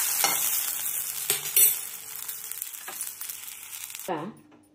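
Okra frying in a little oil in a pan for a spiced okra-with-curd dish: loud, close sizzling with stirring scrapes that suddenly drops to a faint hum near the end.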